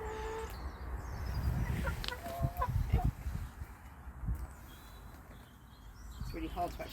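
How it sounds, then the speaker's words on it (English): Chickens cluck and call inside a backyard chicken coop, giving short, scattered calls at close range, while people talk quietly over them. "And now we actually have chickens in a chicken coop."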